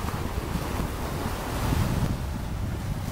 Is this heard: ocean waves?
yes